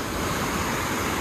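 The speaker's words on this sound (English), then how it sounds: "It's a pretty nice waterfall, water flow." Water rushes steadily over a waterfall at a reservoir in the town of Jefferson on the Rock River, a loud, unbroken roar that fills the whole moment with no voices.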